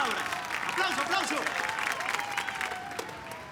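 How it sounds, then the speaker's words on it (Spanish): An audience applauds for a couple about to take the stage, a dense, bright patter of many hands clapping at steady loudness, with a faint voice gliding underneath. "¡Aplauso, aplauso!"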